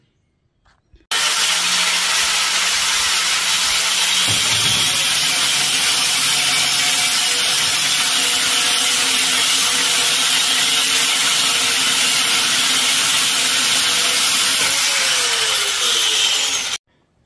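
A power tool cuts through pieces of rebar with a loud, continuous, harsh grinding whine. It runs for about fifteen seconds with a slight pitch change partway through, and no one talks.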